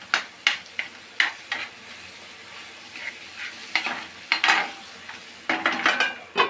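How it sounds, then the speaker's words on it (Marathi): Cooked tomatoes are mashed in a sizzling pan with a utensil, giving repeated scraping and pressing strokes against the metal over a low frying hiss, close and unhurried. "मम्मी टमाटरला त्याच्यामध्येच बारीक करते"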